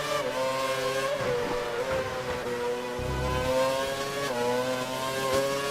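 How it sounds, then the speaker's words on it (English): An F1 race car engine in a racing game whines steadily at high revs, its harmonic pitch rising and dipping slightly through gear changes, with a brief low thump midway. "Red Snapper doesn't sound like he's thrashing the car. Sounds really easy on the throttle."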